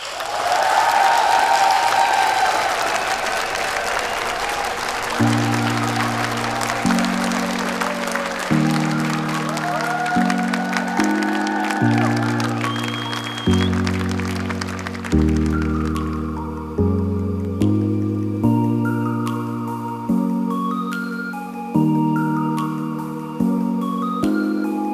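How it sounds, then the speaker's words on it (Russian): Loud applause from a stage show audience at a talent competition bursts out at the start, then fades as bright, stepping electronic music takes over and carries on alone. "Громкие аплодисменты"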